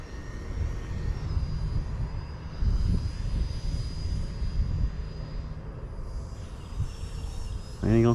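RC model Rafale jet with an 80mm ducted fan running at full throttle on a turf strip, a continuous loud whining rush with a steady high tone, close by, rising sharply at the end.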